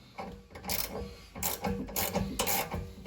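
A ratchet clicks in quick, close bursts while tightening 10mm nuts on a car hub assembly during a Ford Focus MK2 ST to RS conversion, with fast rhythmic pawl clatter and brief gaps between strokes.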